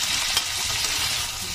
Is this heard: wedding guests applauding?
no